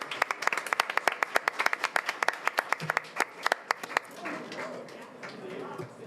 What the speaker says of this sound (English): Can we give them one more round of applause as some of them are exiting?